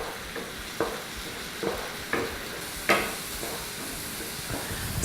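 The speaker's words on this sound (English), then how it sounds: "stirring the risotto from start to finish to get that creamy, delicious result." A spoon stirs mushroom risotto with stock in a pan over medium-low heat, giving regular scraping strokes roughly every half second to a second over a low, steady simmer hiss, close and alone.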